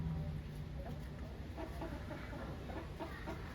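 Egg-laying hens about 19 weeks old cluck softly and intermittently under a papaya tree, fairly faint, with a low outdoor ambience underneath.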